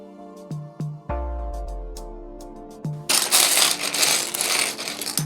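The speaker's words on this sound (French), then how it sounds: "Et puis on va ouvrir les sachets et réunir les pièces." Small plastic Lego pieces for a Mustang model clatter as opened bags are poured out, starting with a few sharp clicks and thuds and building into a dense rattling cascade, close up with no talking.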